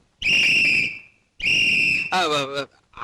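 A person whistling two long, steady high-pitched blasts separated by a short pause, followed by a brief burst of speech.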